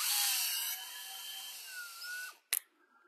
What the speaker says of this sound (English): we'll try to drill a hole up through there.